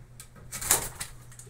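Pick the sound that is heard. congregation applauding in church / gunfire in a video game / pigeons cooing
pigeons cooing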